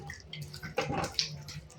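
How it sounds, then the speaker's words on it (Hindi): Water is poured onto a floor while it is being mopped at home, giving a brief splashing, gurgling rush with small drips, moderately close and fairly quiet, with no talking. "देखो अब वो पानी डाल रही"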